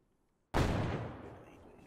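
A single large explosion in the video game DayZ bursts in after half a second of near silence, a heavy boom whose rumbling tail slowly fades over more than a second.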